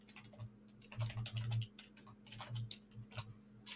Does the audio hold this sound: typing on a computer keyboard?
yes